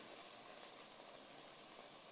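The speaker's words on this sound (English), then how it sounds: "I hear my onions over there sizzling very nicely" Onions sizzle in a frying pan in a home kitchen, a soft, steady hiss heard from a distance, quiet and unbroken with no talk over it.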